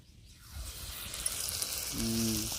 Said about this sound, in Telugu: ఒకటే కానీ పొంగుతూ ఉంది దాన్ని బట్టి తెలుస్తుంది మనకి నూనె ఎంత బాగా మరిగిందో